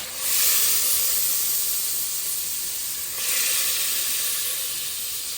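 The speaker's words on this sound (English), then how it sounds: "I'll add in my garlic." Garlic sizzling in melted butter in a pan while making Alfredo pasta, a steady close hissing fry that swells slightly midway and carries on throughout with no talk.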